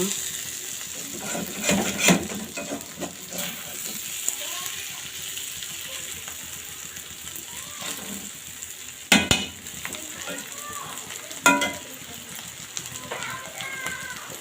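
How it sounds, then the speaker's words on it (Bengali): Beef brain fries in a pan with a steady, close broadband sizzle, broken by a few sharp metallic clanks of a utensil against the pan. "খুব সুন্দর লাল লাল করে ব্রাউন কালার করে ভেজে নিয়েছি"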